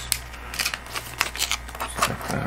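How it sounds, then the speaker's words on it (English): Scissors snip and cut through plastic packaging while a small Orange Pi PC board and its case are being unboxed, giving a series of close, crisp clicks and crinkly rustles. "just cut that with my scissors"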